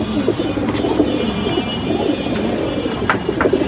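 Many pigeons kept in a home loft coo steadily and close, their soft rolling calls layered over one another, with a few higher chirps and faint traffic noise in the background and no talking.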